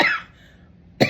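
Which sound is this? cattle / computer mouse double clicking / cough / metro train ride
cough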